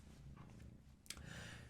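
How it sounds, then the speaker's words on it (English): A small kitten purring close by, a very faint, low, rumbling purr with a brief rustle partway through, heard alone without talking. "Oh, do you hear purring?"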